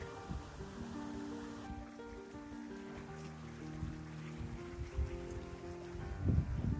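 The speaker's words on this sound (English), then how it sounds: "Raining too." Steady, faint rain hisses across a mountain trail on the Gangotri–Gaumukh–Tapovan trek, with a continuous wash of drops and no talking.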